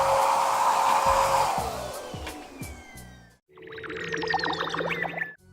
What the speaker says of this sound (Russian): Довольно-таки мощный. Пылесос почти 2 киловатта.